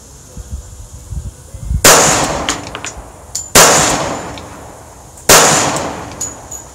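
Three loud, sharp shots from a Girsan 1911 pistol, evenly spaced about two seconds apart, each with a ringing metallic decay; no talking.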